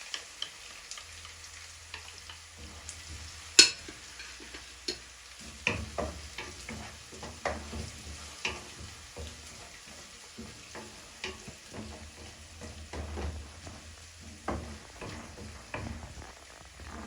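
Garlic ginger paste frying among caramelized onions for a Kenyan matoke beef stew, a low, soft sizzle broken by scattered stirring clicks and spoon knocks on the pot, with one sharp tap early on; no one speaks.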